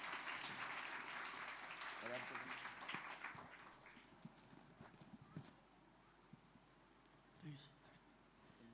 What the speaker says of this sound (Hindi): सभी लोग अपने ताली बजाकर उनको स्वागत करेंगे।